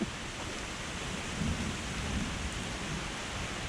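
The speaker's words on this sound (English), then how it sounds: "It's definitely raining." Steady heavy rain falls outdoors by a flood canal, a dense continuous hiss with a few slightly louder swells and no voices.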